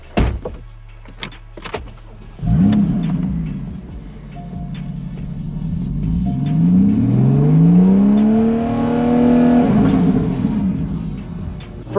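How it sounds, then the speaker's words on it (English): A Porsche race car engine starts after a few clicks, then idles with a rough rumble and revs up with a rising whine that sweeps higher and falls back, close and loud. "So let me start it, and then I'll bring it about 2/3 of the revs"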